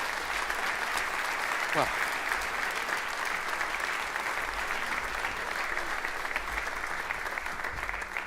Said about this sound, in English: They would love an applause to feel welcome.